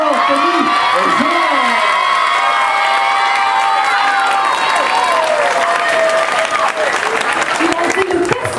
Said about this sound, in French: Alors applaudissez, mesdames, mesdemoiselles, messieurs, Yolène, Ombline, Adèle, Agathe, Jeanne, Laure, Tony et Jean